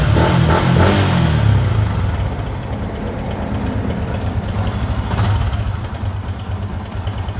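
Engine of a 2016 motorbike, loud and close, with a brief rev at the start before it settles into a smooth, even idle.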